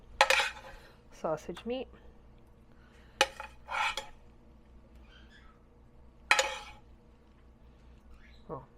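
Kitchen cooking sounds with spoons and dishes clinking, several sharp metallic clinks and scrapes spaced apart, with a person speaking briefly in between.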